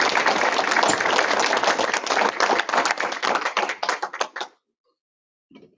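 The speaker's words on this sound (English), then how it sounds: "And another round of applause for the Community Foundation" A room of listeners at a Rotary Club meeting claps together for several seconds, a dense close patter that thins into scattered claps and stops abruptly, with a brief voice starting after.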